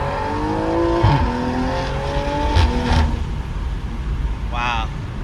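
A BMW M340i on drag radials launches in first gear, the engine note climbing in loud rising revs with a brief shift-like dip, heard close up inside the car with a voice speaking over it.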